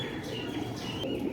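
Pigeons coo softly from an Ali Wale breed loft, a low, continuous murmur of bird calls with faint chirps over a steady background hum.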